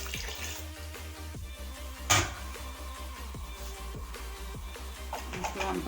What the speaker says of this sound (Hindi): चार गिलास आप पानी डाल दें।